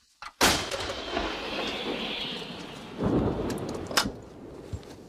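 A 105 mm artillery gun fires at infantry in a field position, with a sharp, loud blast followed by a long rumbling roll. A second thump arrives about three seconds later and a crack near the end.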